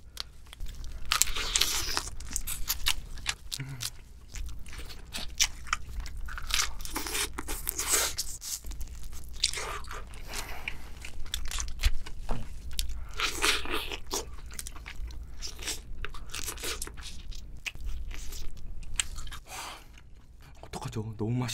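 Close crunching and cracking of Hanasaki king crab shell and meat being bitten and chewed in a seafood mukbang, with wet mouth sounds and tearing, while a voice talks intermittently throughout.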